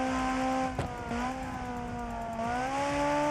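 Simulated supercar engine from the BeamNG game, revving steadily with rising and falling pitch as it accelerates and eases off, loud and close with no talking.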